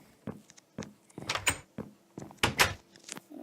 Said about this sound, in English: I'll put the door down for my dog.